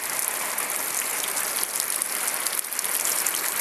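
Light May rain falls outdoors in the Algarve, Portugal, a steady, close hiss of drops on surfaces with no voices.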